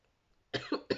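Three sharp coughs from a woman follow near silence, loud and close, in a quick uneven burst.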